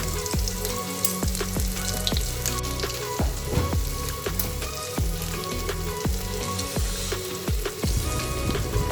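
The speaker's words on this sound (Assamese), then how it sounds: "আৰু তেলখিনিত মই অলপমান পিঁয়াজ আৰু কেইটামান সৰিয়হো দি দিছোঁ।" Chopped onion and mustard seeds sizzle and crackle continuously in hot oil in a pan, a dense frying hiss with scattered sharp pops throughout, close and steady.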